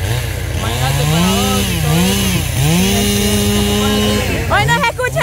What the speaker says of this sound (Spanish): Ahora no se escucha lo que es nada por la motosierra y por la máquina.